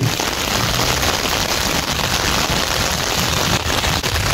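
Heavy typhoon rain pouring in Manila near Manila Bay, a dense, loud, constant roar of downpour drumming on surfaces, with no pauses and no voices for the full four seconds.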